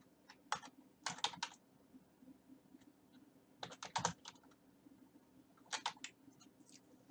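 Soft clicking keystrokes on a computer keyboard come in several short clusters of rapid taps with pauses between them, close but quiet over a low background hum.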